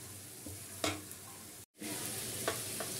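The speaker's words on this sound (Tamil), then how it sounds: "இந்த மசாலாஸ் எல்லாத்தையும் சேர்த்த அப்புறமா ஜஸ்ட் ஒரு 10 to 20 செகண்ட்ஸ் மட்டும் வதக்கிட்டு" Spices sautéing in a pan for mutton chukka give a close, steady sizzle with a few soft stirring scrapes, broken by a brief cut to silence midway before the frying resumes.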